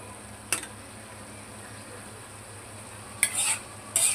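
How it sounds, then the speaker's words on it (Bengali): Bitter gourd stir-fry is stirred in a pan after the lid comes off, with a few distinct scraping clinks of a utensil over a faint background sizzle. "নাড়াচাড়া দিয়ে দেবো।"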